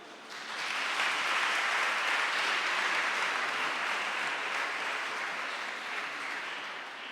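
A church congregation applauds a men's choir at a Sunday Mass, the dense clapping of many hands swelling quickly and holding steady for several seconds before easing slightly, alone with no voices over it.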